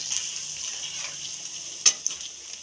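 Paneer pieces frying in hot white oil in a kadai over a gas flame, a soft steady hiss close by with one sharp pop of spatter near the end, no talk.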